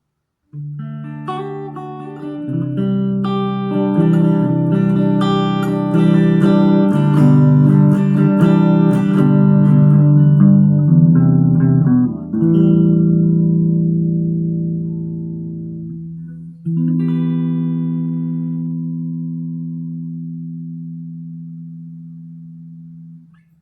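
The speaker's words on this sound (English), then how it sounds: "So clean tones, this thing sounds great." A clean electric guitar, a Leo Jaymz in neck pickup position, plays ringing chords and single notes, then lets a final chord sustain and slowly fade.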